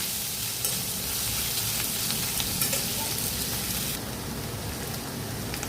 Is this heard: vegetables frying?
yes